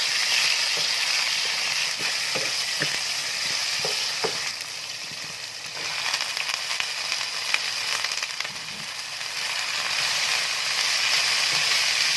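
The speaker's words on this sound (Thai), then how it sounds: "ผัดพวกกระเทียมพริกแล้วก็มะเขือเทศก่อนนะคะ" Steady loud sizzling of garlic, chili and tomato stir-frying in hot oil, with occasional scraping and clinks of stirring in a pan, continuous throughout.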